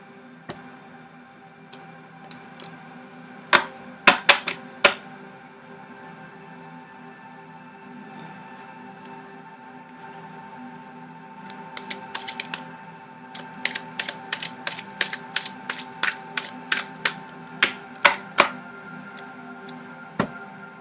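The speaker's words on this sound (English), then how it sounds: "I'll do another shuffle here." Tarot cards being shuffled by hand, crisp riffling clicks and flutters in short bursts with a quiet gap, then a denser run of rapid snapping ticks near the end, close and fairly quiet with no talking.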